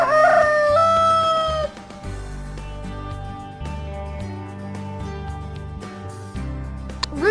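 A rooster crows once, loud and close, in a long drawn-out call at the start. Cheerful background music from a children's farm-animal learning game follows.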